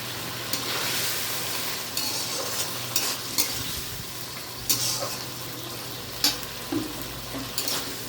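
Banana flower ghonto (mochar ghanto) sizzles steadily in a pan while a spatula stirs it, with periodic scraping taps against the pan over a continuous frying hiss.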